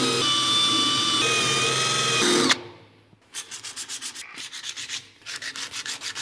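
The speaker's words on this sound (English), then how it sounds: "Now I've got this beautiful power tool here, which is going to quickly and easily give me the finish I want." A power sander strips powder coating from a Caterham cycle wing, first as a steady abrasive whir and then as a rapid run of rhythmic rubbing strokes.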